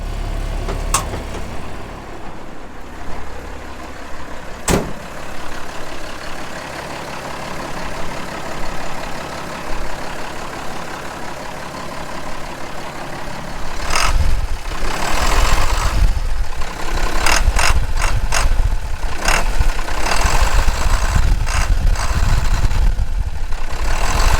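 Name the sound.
International S1754 diesel dump truck engine running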